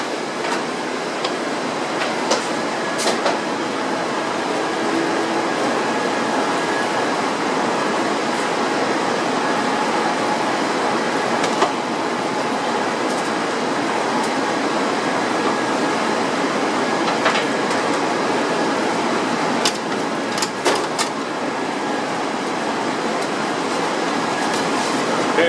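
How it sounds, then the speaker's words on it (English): A commercial cheese melter runs steadily in a kitchen, melting Swiss cheese on a tray, giving a continuous broadband whir and hiss with a few faint clicks and knocks throughout. "Put it in the cheese melter"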